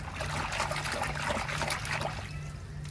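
A powder being mixed into water in a container, giving a continuous close swishing and trickling splash that holds steady for about three seconds, with no voices.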